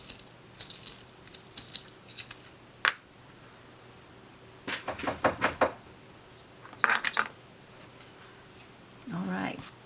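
Black Stabilo All pencil being sharpened in a room, with scattered bursts of scraping and grinding between pauses, close and moderately loud, with a voice speaking now and then.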